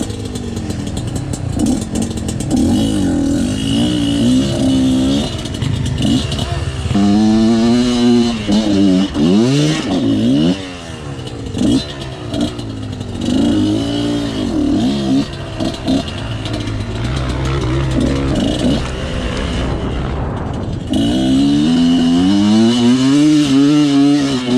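A 2022 Moto Pro Pro-Am motorcycle revs loudly and continuously as it is ridden, its engine note rising and falling through repeated surges of throttle, close and dominant with no talk.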